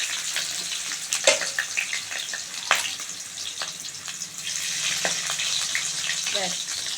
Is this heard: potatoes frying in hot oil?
yes